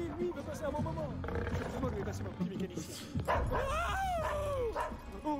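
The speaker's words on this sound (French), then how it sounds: "C'est un Doberman." Doberman dog yipping, barking and whimpering in short, high, sliding cries at moderate distance, mixed with people talking nearby.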